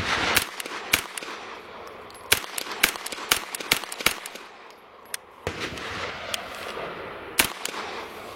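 Gunshots come from a gun fired while braced against a sling: a series of sharp, irregular cracks with short pauses between them, heard fairly close.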